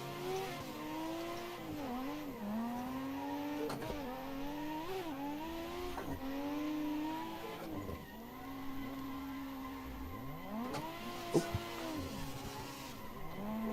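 Tires squeal and skid repeatedly in Assetto Corsa as a car drifts through corners, wailing pitch sweeps riding over a steady engine drone, loud and continuous, with a brief sharp knock near the end.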